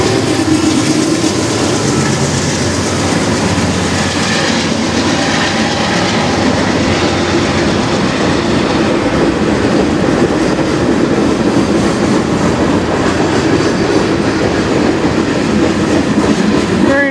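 CN freight train passing near Sarnia, Ontario on a rainy day, a loud continuous rumble with rhythmic clickety-clack of wheels over rail joints and faint wheel squeal, sustained throughout.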